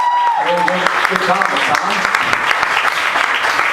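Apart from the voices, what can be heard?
audience applause for the comedians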